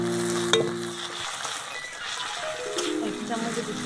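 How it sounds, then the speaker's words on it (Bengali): Chopped onion, tomato and slit green chilli fry in a pan with a continuous hissing sizzle and light stirring, while a faint voice or tonal sound hums underneath. "পেঁয়াজ কুচি টমেটো আর লঙ্কা চিরা ভালো করে ভেজে নিলাম"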